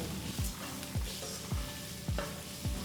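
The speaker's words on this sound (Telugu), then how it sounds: "వేసి మొత్తం మనం సాటే చేసుకోవాలి" Ginger, green chillies and onion sautéed in a pan for cucumber rice, with a constant sizzle and rhythmic spoon scrapes repeating roughly twice a second, close and alone.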